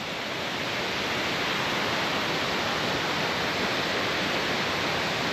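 Dense, constant roar of Reese Falls, a cascading waterfall on the South Fork of the West Fork of the Gallatin River, heard up close with no break and no one talking.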